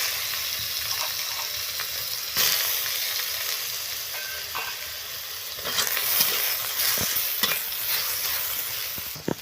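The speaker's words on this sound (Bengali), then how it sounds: "আমি বেগুনগুলো ভেজে নেব।" Eggplant pieces fry in oil in a pan with a steady, fairly quiet sizzle, joined by occasional stirring scrapes and clinks, with no voices.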